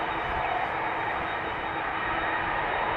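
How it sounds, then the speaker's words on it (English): An Emirates Airbus A380 airliner taxis at Amsterdam Schiphol airport, its engines giving a steady, broad, unbroken roar from nearby that stays level throughout with no voices. "Now the Emirates A380 Super in the standard livery, taxiing toward the runway threshold."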